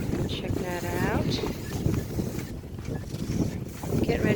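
Wind buffets the microphone steadily while a sailboat's dinghy is hoisted, with faint creaks from the gear and people talking underneath.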